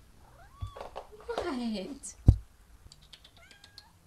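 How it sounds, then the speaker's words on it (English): A cat cries and meows from a small hammock indoors, several close, wavering meows with one sharp thump midway, while a person briefly speaks over it. "My cat is crying on our little hammock."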